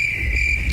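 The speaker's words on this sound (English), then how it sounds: "I need you to cool it on the crickets because the last episode you played that like 13 times." Steady electronic cricket chirping from a podcast soundboard effect, a continuous high-pitched trill held at even loudness over a low background hum, with no talking.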